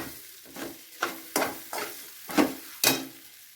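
Leftover idli pieces tossed with idli podi in a pan, about six distinct scraping stirs of a spoon, close and clear, with faint sizzling between them.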